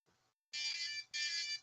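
Electronic beeps from a foam blaster built on a Milwaukee or Ryobi drill body: a faint short chirp followed by two loud, sustained high-pitched tones with a brief gap between them, close up.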